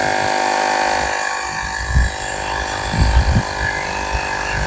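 A portable electric tyre inflator runs steadily, a loud continuous buzzing motor hum with a few rhythmic low pulses from the pump, close up and without any talking.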